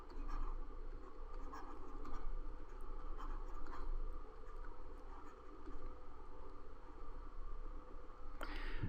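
A pen scratches steadily across a writing surface while a chemical structure for phosphorus tribromide, PBr3, is drawn, with continuous close strokes against faint hiss.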